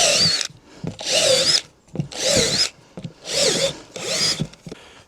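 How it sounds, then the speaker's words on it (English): A power drill bores holes into a plastic pond filter container, running in five close, loud bursts of whining motor with short pauses between them. No one speaks. "keep on drilling"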